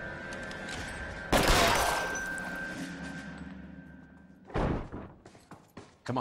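Gunfire in the video game LA Noire: a loud burst of shots and impacts that trails off into a ringing tail, followed by a run of sharper, closer shots and thuds near the end.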